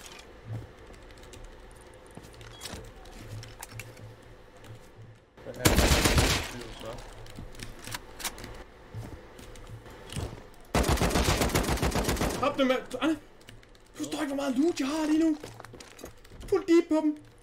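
Gunfire in the video game Rust comes in two dense rapid bursts, the second longer, over quiet game ambience with scattered clicks, and voices talk in between.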